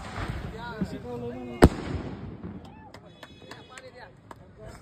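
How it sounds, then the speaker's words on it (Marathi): A single sharp firecracker bang at a cricket final cuts through background chatter, followed by scattered fainter pops and crackles. "त्याच्यामुळं आधीच फटाकडा लावला"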